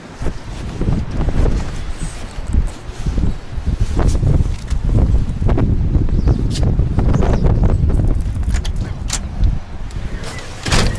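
Strong wind buffets the microphone continuously, a loud rushing roar with gusting swells throughout.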